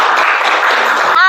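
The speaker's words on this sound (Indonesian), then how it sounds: "Kita beri tepuk tangan untuk temannya" Classmates applaud in a classroom lesson, a dense burst of steady clapping filling the room for about a second before it cuts off abruptly.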